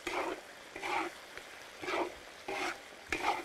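Dried Sichuan peppercorns, chilies and chili bean paste sizzling in a wok as they are stirred, five short bursts of frying and scraping spaced about half a second apart, close and clear.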